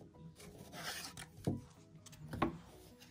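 A piece of cardboard is cut by hand, soft scraping and rasping strokes close by and faint, with two brief stronger scrapes, and nobody speaks.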